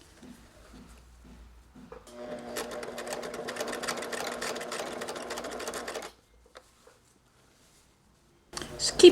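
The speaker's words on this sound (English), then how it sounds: "I'm stitching close to the edge here," A sewing machine stitches armhole binding on a bolero, running steadily for a few seconds with a fast whirring rattle, close by, then stopping abruptly before a brief restart at the end; a person speaks quietly around the stitching.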